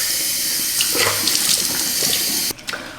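A tap runs steadily for rinsing, a close, continuous splashing stream that cuts off abruptly near the end, leaving a couple of faint drips and clunks.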